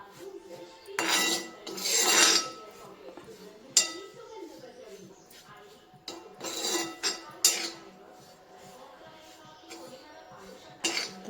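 Grated coconut dry-roasting in a pan for a Konkan-style red chilli and coconut chutney: a spatula scrapes and clinks against the metal in uneven bursts, with a voice talking now and then in between.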